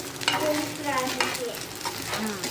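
Masala idli frying in a pan, a steady close sizzle with light scraping and stirring clicks running throughout, no voices.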